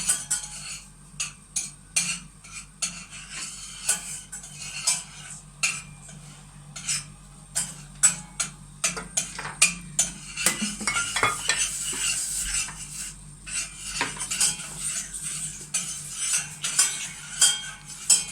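Primary-school children making tarhana soup stir with a spoon in a bowl, giving a run of quick clinks and scrapes, fairly close and moderately loud, with a faint hum of activity underneath.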